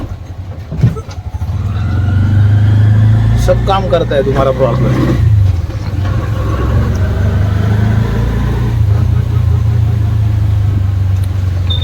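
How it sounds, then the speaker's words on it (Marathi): A new auto rickshaw's engine drones steadily and fairly loud while it is being driven, with someone talking over the running motor throughout. "तुमचा ब्लॉगर आज रिक्षा चालवतोय"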